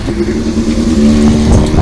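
A nearby vehicle with a modified exhaust rumbles loudly, a deep steady engine drone that swells slightly as it revs.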